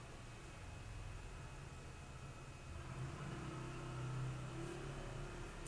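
A motorcycle passing outside, heard faintly from a distance as a low engine hum that swells and peaks near the end before easing off.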